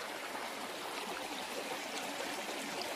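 River water flows steadily beside a hiking path, a continuous close rushing wash with no voices.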